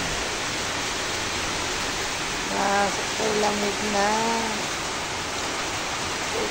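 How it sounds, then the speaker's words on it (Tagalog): Steady heavy roar of rain and gusting wind fills the scene, with a person speaking briefly in the middle. "Lakas ang ulan, lakas ang hangin."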